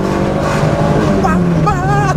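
An Opel Corsa GSi four-cylinder engine revs up briefly and smoothly, its pitch rising near the end beneath someone speaking.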